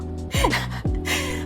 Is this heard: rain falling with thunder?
no